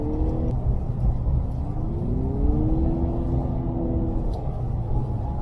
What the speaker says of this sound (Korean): 엔진 사운드가 굵직하면서도 그런 좀 묵직한 사운드는 아니에요.